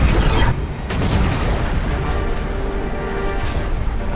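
Ships firing at each other in Lego Fortnite Star Wars, with heavy booming blasts and rumbling laser-like shots layered in a dense, loud, continuous battle din and no talking.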